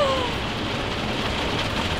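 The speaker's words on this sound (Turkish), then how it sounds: "Baksana nasıl yağdırıyor." Heavy rain pours in a steady, dense hiss, drumming evenly and fairly close without a break, with no voices.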